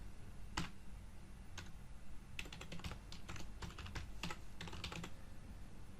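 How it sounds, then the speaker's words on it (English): Computer keyboard typing, done while writing Python code for a GeoPandas geoprocessing script. A few isolated key clicks come first, then quicker bursts of close, crisp keystrokes over a steady low room hum. "So just going to type over here"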